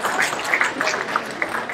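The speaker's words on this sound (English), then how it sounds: "I'll just give yourself a round of applause." Conference audience giving themselves a brief round of applause at a creativity talk, a short burst of scattered mixed clapping at moderate volume, fairly close and even, with no voices over it.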